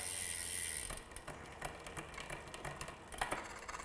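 A bicycle rear derailleur is adjusted and then shifts the chain onto the high sprocket. Crisp ratcheting clicks and mechanical ticks sound close by, following a brief burst of hiss, with no talking.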